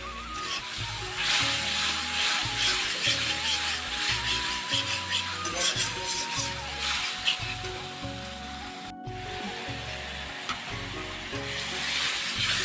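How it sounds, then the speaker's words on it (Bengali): Spice paste sizzling and frying steadily in a pan for a potato and pointed gourd curry, with the constant crackle of hot oil and occasional scraping from stirring, close and continuous. "মশলাটা আমার সাতলানো হয়ে গেছে"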